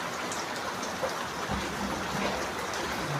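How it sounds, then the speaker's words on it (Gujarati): Steady outdoor rain falls continuously over three seconds, a soft even hiss of drops on surfaces with slight low patter, moderately close and with no voices. "વરસાદ 3 દિવસથી ચાલુ છે"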